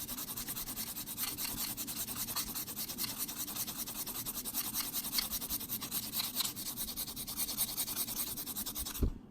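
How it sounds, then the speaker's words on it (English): The cut edge of a 1984 quarter being rubbed with a nail-file-style sandpaper block, a continuous close scratchy rasp of rapid back-and-forth strokes that runs steadily for about nine seconds and then stops abruptly. "this is like a nail file block. It's got a couple different grades of sandpaper on here."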